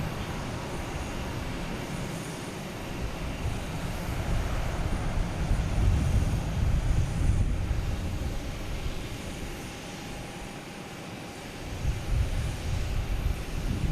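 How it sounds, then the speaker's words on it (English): A Delta Airbus A330 jet taking off at Boston Logan Airport, a broad engine roar heard from a distance that swells through the middle and eases, then rises again near the end. "That's Delta, an A330 heading to Heathrow."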